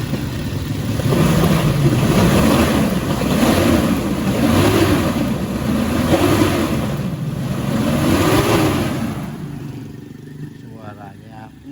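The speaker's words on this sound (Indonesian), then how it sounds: "Bunyinya khasnya dari sebuah kijang." Engine of a 1997 Toyota Kijang revving repeatedly in slow rising and falling swells, loud and close with a rough hissing roar, fading near the end as outdoor noise remains.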